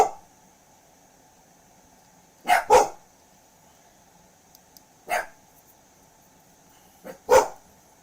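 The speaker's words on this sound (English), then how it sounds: "My dogs, they're going." Dogs bark in a few short, loud pairs and single yelps spread across the stretch, over a faint steady hum.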